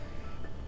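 A single sharp cough from someone who has been ill, bursting loud at the very end after near silence.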